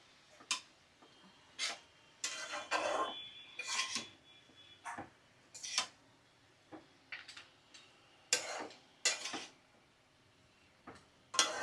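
Cabbage and potatoes with spices being stirred in a pan, heard as irregular sharp scraping and tapping strokes of a spatula at close range, spaced by quiet gaps, with no voices.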